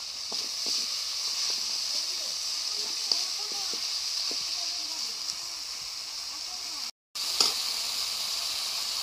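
Chopped tomato sizzling in a hot pan with ginger paste and salt, a steady bright crackle under faint clinks of stirring, broken by a brief dropout near the end.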